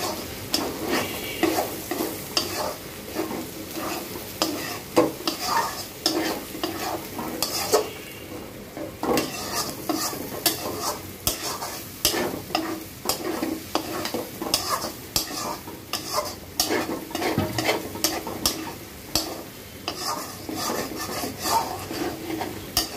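Chickpeas frying in a pan for a spiced Bengali chickpea dish (boot bhuna), stirred continuously with a utensil. Steady sizzling runs under busy, rhythmic scraping and clinking against the pan, close and fairly loud throughout, with no talking.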